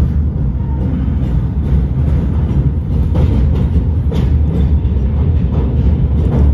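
Inside a passenger train, the Progo New Generation, running from Lempuyangan toward Yogyakarta station: a loud, steady low rumble of wheels on rails with faint rhythmic clacks throughout.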